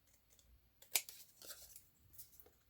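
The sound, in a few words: cutting paper labels with scissors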